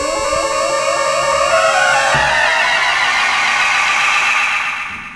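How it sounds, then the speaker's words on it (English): A Korg Monotron Duo synthesizer runs through a dub feedback echo effect from a Korg MiniKP2, producing loud, buzzing repeats that pile up into a rising, smeared swell before fading out at the end. "dub echo, feedback echo."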